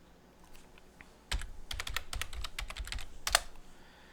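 Quick, uneven keystrokes on a computer keyboard entering a password, a close run of crisp clicks with a couple of sharper taps, preceded by a few isolated presses, no voices.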